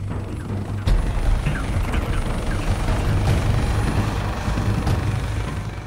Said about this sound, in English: Sir, the HiRO drone will be approaching momentarily.